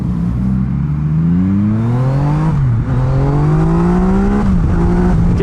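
Loud, close engine of a Yamaha MT-09 motorcycle revving hard, pitch climbing steadily, dipping briefly around a shift, then rising again in one sustained roaring run with no talk over it.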